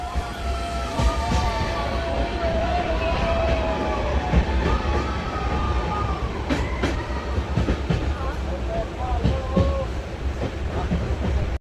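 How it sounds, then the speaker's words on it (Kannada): The Karwar Express at Yeshwantpur railway station rumbles steadily nearby, with squealing wheel and brake tones rising and falling over the constant clatter and station bustle. "ನಾವಿವಾಗ ಯಶವಂತಪುರ ರೈಲ್ವೆ ಸ್ಟೇಷನ್ ರೀಚ್ ಆಗಿದ್ದೀವಿ. ಟ್ರೈನ್ ಬಂದಿದೆ."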